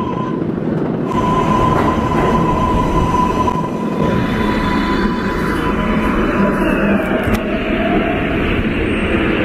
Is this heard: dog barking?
no